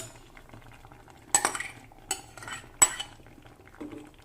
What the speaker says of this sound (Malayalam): ഇനി ഇതിലേക്ക് തലപ്പാൽ ഒഴിച്ചു കൊടുക്കാം.